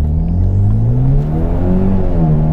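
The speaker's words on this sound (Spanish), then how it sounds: "Ahora sí, aceleración fuerte, vamos a ver." A car with a newly replaced transmission and a changed turbo accelerates hard, its engine droning loud and steady with rising harmonic tones, heard from inside without talk.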